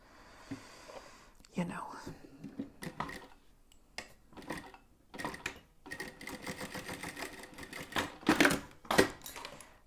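Sewing machine stitching in rapid bursts that start and stop, with quiet whispered talk around the mechanical clatter.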